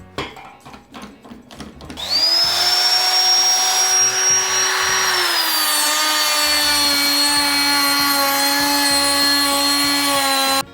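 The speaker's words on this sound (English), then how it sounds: "Time to break out the trusty palm router" A trusty palm router spins up and trims the front edges of wood for a camper van kitchen, a loud steady high whine that runs for several seconds after a few light knocks.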